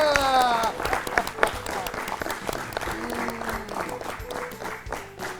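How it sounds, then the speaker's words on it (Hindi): A school audience gives hearty applause after a correct quiz answer on a kabaddi learning show, steady clapping from many hands under a host's voice. "हो जाए एक बार फिर से जोरदार तालियां"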